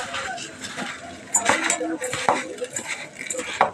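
Uncooked, unwashed rice tipped into an oiled pot of boiled water in a home kitchen, a few sharp clinks and rattles of grains and utensil against metal over faint background hiss.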